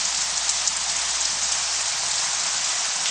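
Rain falls steadily in a dense, even patter of drops on surfaces, loud and close, with no voices over the constant hiss.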